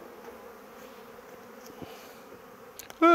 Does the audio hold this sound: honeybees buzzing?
yes